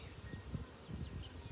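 Honey bees crowding a hive frame during a March swarm check give a soft, steady buzzing hum, low and continuous with slight pulsing, close by and without voices.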